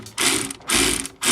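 A ratchet wrench clicking rapidly in three bursts while tightening an intake clamp on a 2021 Acura RDX A-Spec with an HPS intake, loud and close, with short pauses between strokes.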